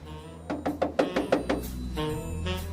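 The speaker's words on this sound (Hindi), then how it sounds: "ये दरवाजा क्यों खटखटा रहे हो यार?" Knuckles knock on a door in a quick series of about six sharp raps, close and clear, followed by a softer shuffling noise.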